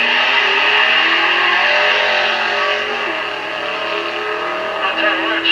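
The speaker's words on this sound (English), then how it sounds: "Andy Dawson from York driving the 1956 Chevy" A 1956 Chevy launches down a drag strip, its engine a loud, high-pitched roaring wail that holds steady and then eases slightly as it pulls away.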